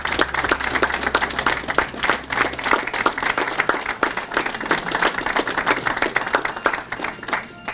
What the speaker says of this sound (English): give them a round of applause for the support that they have already given you